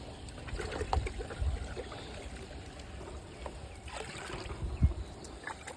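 Irrigation water carrying fermented fruit solution (EM) runs through a venturi into a paddy field, giving a low, continuous gurgling flow with occasional soft splashes and knocks.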